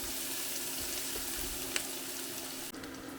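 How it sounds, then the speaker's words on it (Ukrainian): Steady, soft sizzling of carrots frying in a pan, a continuous hiss with no voices, broken by one faint clink near the end. "Поки морква смажиться"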